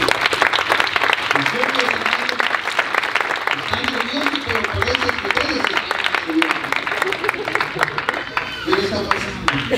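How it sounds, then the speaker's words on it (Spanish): Wedding guests give a loud, sustained round of applause, crisp dense clapping with crowd voices mixed in, holding steady for the whole stretch. "Denle un fuerte aplauso."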